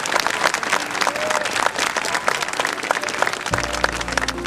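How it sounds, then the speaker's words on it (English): Steady, dense applause from a large crowd at the Carquinez Bridge ceremony rolls on without a break, close and loud, with voices and cheering mixed in. "Give yourself a round of applause"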